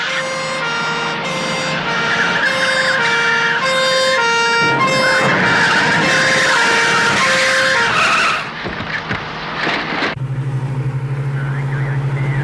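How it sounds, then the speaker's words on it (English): A police car siren wails in a loud, steady repeating pattern through an early-1980s comedy street scene, with tyres skidding, engine noise and a brief horn blast toward the end. "they let that police car through"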